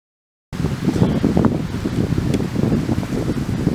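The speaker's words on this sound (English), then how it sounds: "Winds gusting between 20 to 30 miles an hour, so snow's coming down pretty hard." Strong wind gusting at 20 to 30 miles an hour during a snowstorm in the Juniata wilds roars and buffets the microphone with a loud, churning rush that begins abruptly and keeps surging, with no talking.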